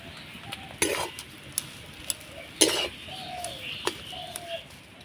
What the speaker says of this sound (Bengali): মশলার সঙ্গে খুব সুন্দর করে আলুটা আমি কষিয়ে নিয়েছি